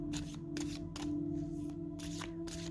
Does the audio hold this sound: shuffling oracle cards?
yes